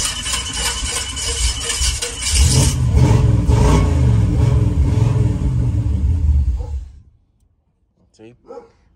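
A car engine fitted with Sniper EFI fuel injection runs and revs up loud and close into a rough, roaring rumble, holds for several seconds, then stalls and cuts off into near silence with a couple of faint bumps after.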